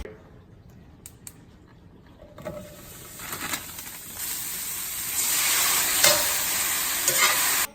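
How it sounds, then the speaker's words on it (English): Leftover vegetables and proteins go into a pan for a stir fry, the sizzle starting soft with a few clicks and building to a loud, steady hiss with stirring scrapes toward the end. "Another idea for using up those leftover veggies and proteins is stir fry. Stick it all in a pan."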